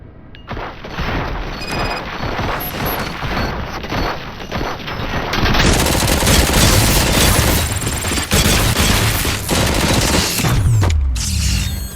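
Sustained heavy gunfire in RoboCop: Rogue City, loud dense bursts of shots and booms rattling continuously for about twelve seconds with brief lulls.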